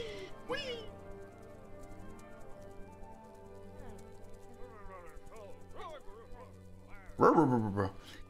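In the video game Bee Simulator, a dog lets out a sudden loud bark near the end, following a stretch of tonal game sounds and chatter-like voice sounds.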